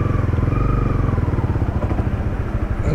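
A Hero Splendor motorcycle engine thrums close by on a village road, a steady low rhythmic putter with a rising whine that gradually fades as it rolls on.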